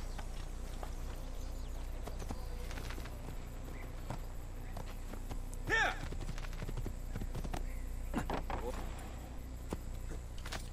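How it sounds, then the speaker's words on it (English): A horse in the video game Assassin's Creed 2 gallops with a steady clip-clop of hooves in a quick rhythm over a low ambient hum, with a brief neigh midway. "this horse is just conveniently here."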